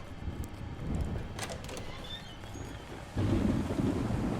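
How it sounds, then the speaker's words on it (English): A low rumble of thunder rolls under steady rain in the video game Pineview Drive, swelling louder near the end as the storm noise thickens. "they're still doing the thunderstorm thing"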